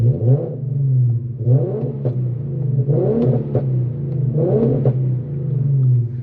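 An Infiniti Q50 with a burble tune revs up close in four repeated pulls. Each deep engine rumble rises and then falls back to idle between blips, and no one speaks.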